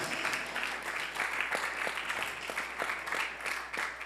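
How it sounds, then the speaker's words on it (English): A church congregation claps in praise during a sermon, giving soft, even applause with a faint roomy wash of many hands and occasional distinct claps. "Give Jesus the best clap of praise in the house."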